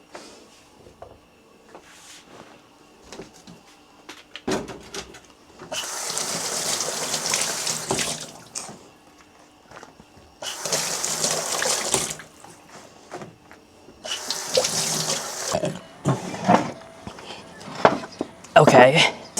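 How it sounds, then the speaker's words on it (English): Tap water gushes into a sink in several long bursts while lettuce is washed in a kitchen, with clatter and handling noises between the runs of the faucet. "Do I need to wash the lettuce? I think so, right? So let's do it right now."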